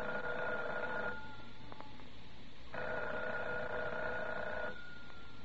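An old telephone rings in two long, insistent bursts separated by a pause, its bell clear and fairly close over a soft background hiss, with no talk.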